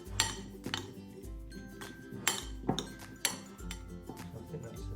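Seasoned potato wedges are tossed in a bowl with garlic powder, giving close, irregular clinks and knocks against the bowl along with a soft low shuffling.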